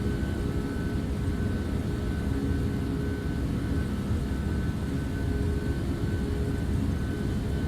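Captain Sim 757 airliner in Prepar3D on its takeoff roll, jet engines giving a steady, dense low roar with a faint high whine running throughout, no voices.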